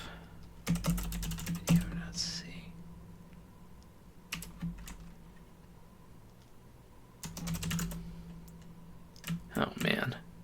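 Computer keyboard typing at a desk while porting Chocolate Doom code, arriving in several separate bursts of quick, crisp keystrokes with quiet pauses between, and someone speaking briefly near the keys.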